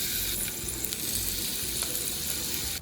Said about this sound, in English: arrange the wings directly on the hot plates